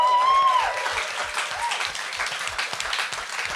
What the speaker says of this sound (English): Give them a big round of applause, actually.